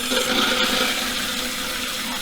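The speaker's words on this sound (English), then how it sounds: "And this is where the toilet starts filling up." A toilet tank refilling with water after a repair, a steady rushing and hissing of water flowing in, fairly close and continuous with no talk.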